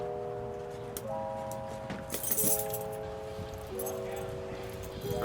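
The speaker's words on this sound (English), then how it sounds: "go through all the keys" A bunch of keys jingles and clinks while a workshop is opened up for the day, metallic rattles over a low background hum with steady tones that step between pitches.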